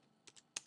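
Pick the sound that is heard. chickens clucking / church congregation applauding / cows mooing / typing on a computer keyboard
typing on a computer keyboard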